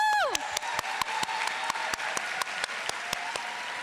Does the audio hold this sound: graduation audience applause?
yes